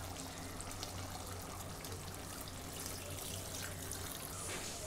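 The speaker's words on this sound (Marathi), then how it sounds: "आता आपण याच्यात थोडंसं पाणी टाकतो आहे।" A little water poured into chicken biryani cooking in a pot, a faint, steady trickling hiss that runs evenly for a few seconds with no talk.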